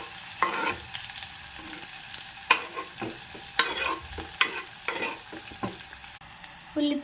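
Onions sizzling and frying in hot oil with mustard seeds and cumin, crackling close by with intermittent stirring scrapes and spoon clatter.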